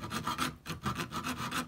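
A hand saw rasps through wood in quick, short back-and-forth strokes, steady and close, with no talking.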